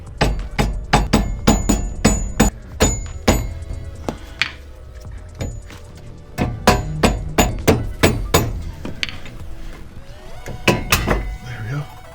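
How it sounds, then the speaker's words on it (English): Repeated loud hammer blows knock a rusted, stuck wheel hub off a Mitsubishi Evo 9 MR, coming in two quick bursts of sharp metallic whacks with a short pause between, while a voice talks briefly. "now I'm gonna give it a whack"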